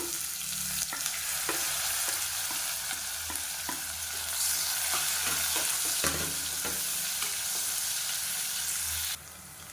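Chopped onions sizzle in hot oil with mustard seeds, cumin and curry leaves for a South Indian side dish. The sizzle is steady and close, and a spatula scrapes and taps in a regular rhythm. No one talks.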